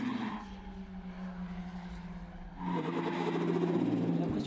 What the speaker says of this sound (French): on a l'impression que le moteur paraît un peu asthmatique à certains moments